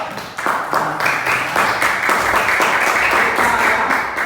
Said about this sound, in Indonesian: Apresiasi tepuk tangan, ya.